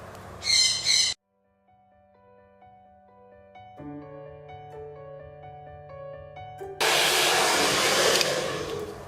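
A handheld hair dryer blows with its nozzle aimed downward along a round brush while styling hair, a loud broadband rush in two bursts at the start and end, separated by a quieter stretch of faint tonal sounds.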